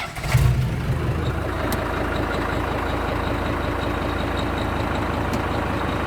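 A Kubota tractor engine runs at a steady idle-like drone, close and continuous with a low rumbling hum and no bogging, after a brief clunk at the start; no one talks.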